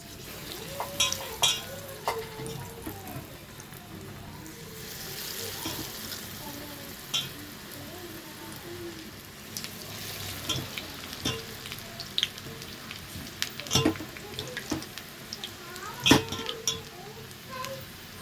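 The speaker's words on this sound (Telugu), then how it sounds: "ఇప్పుడు ఆయిల్ అయితే బాగా హీట్ ఎక్కిందండి ఇప్పుడు మనము బోండా అయితే వేసుకున్నాం" Bondas deep-fry in hot oil with a quiet, continuous bubbling sizzle marked by scattered pops and occasional scrapes of a spoon or pan, close by, with faint background sounds but no clear talk.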